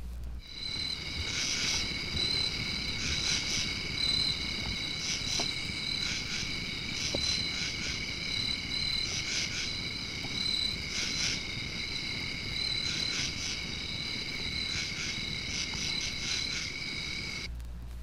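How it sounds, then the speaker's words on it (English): A steady, dense chorus of insects in eastern United States woods trills continuously in pulsing waves, high-pitched and fairly distant, with no voices. "mankind almost everywhere is subjected to a serenade of insect songs"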